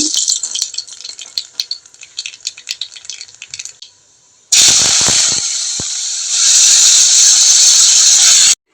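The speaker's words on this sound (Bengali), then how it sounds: "গাজর ভাজার জন্য কালো জিরা ফোড়নটা দিয়ে দিচ্ছি।" Nigella seeds crackle and spit in hot oil with rapid popping, then a loud, sustained hiss of sizzling takes over as carrots fry, continuing to the end.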